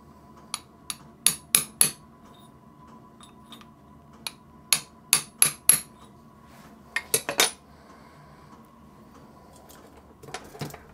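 Sharp hammer taps punch stud holes through thick joint gasket material for a Sentinel steam waggon safety valve, landing in close, loud clusters of two to four blows separated by pauses.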